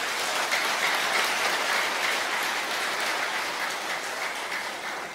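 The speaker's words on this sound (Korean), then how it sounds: "자, 박수 한번 치십시오." A concert audience at a Korean art song festival applauds in a dense, even crackle, a continuous hall-wide clapping that sounds almost like rain and holds steady for several seconds.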